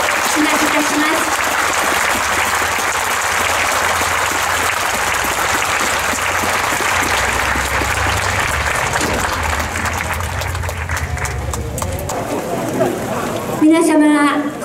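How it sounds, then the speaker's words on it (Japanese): A packed hall at a May 3 constitution rally in Kyoto fills with sustained, loud applause for a journalist speaker, holding steady for over ten seconds before thinning as a speaker's voice comes in near the end. "今一度末波康さんに盛大な拍手をお願いをしまいたします。"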